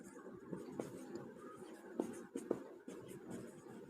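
A pen writing out a math solution on paper, with soft scratchy strokes and a few sharper taps, close and quiet over a faint background murmur.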